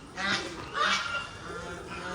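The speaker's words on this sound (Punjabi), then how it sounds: "ਇੱਥੇ ਗੁਰਦੁਆਰੇ ਵਿੱਚ ਮੋਰ ਬੱਤਕਾਂ ਕਬੂਤਰ ਪਾਲੇ" Ducks and geese kept at a Sikh gurdwara honk in two loud bursts against a steady murmur of outdoor background sound.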